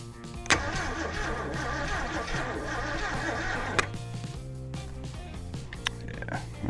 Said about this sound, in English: I'm gonna try to keep turning over a bit. Hopefully it loosens up the engine some.